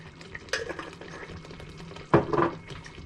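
Sweet tomato chutney with muscovado sugar and salt is stirred in a pan, making a soft, thick scraping and squelching with two brief bursts of spoon-against-pan contact over low background noise.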